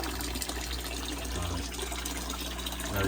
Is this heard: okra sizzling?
no